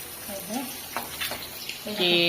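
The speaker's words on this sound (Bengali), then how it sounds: "ডিমটা এই যে সুন্দর করে ভেজে নিচ্ছি" Egg frying in a pan in a village home kitchen, a steady soft sizzle with a few light stirring scrapes over about two seconds.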